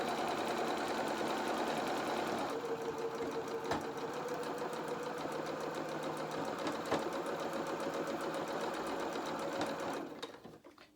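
A sewing machine stitches felt doll bloomers with lace, running in one continuous steady whir for about ten seconds before fading out near the end.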